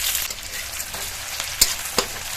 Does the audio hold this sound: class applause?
no